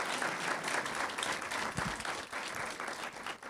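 Steady, full applause from an audience welcoming Tchanori Kone to the stage at a civil rights talk, sustained and fairly loud from start to finish.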